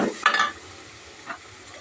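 A spoon stirs a grated carrot filling for stuffed chapati in a bowl, two short scraping strokes, close and soft against a quiet background.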